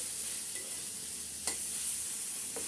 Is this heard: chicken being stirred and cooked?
yes